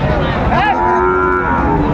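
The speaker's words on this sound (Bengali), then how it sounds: "আমরা দেখছিলাম এখানে একটি চমৎকার একটি বাচ্চা দেখছেন বেলাল ভাই।" A Sahiwal calf lets out a single loud, drawn-out moo close by, wavering in pitch, over a noisy outdoor background at a farm in Dhaka.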